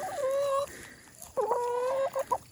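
Chickens vocalize in a few clear, drawn-out calls with tonal harmonics, a longer cry first and then a second call with short trailing clucks, fairly close and with no talk over them.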